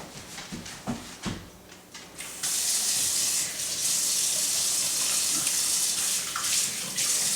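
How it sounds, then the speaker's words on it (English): Water runs from a tap during handwashing, starting as a strong steady rush after a couple of seconds of knocks and handling, then pouring continuously and loud to the end. "first we're going to wash our hands"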